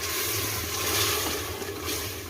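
Half a cup of water hits hot frying masala with red chili powder and turmeric in a pressure cooker for a goat tripe ojri recipe, giving a loud, steady, close sizzling hiss with no pauses.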